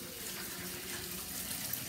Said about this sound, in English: let me wash my hand and that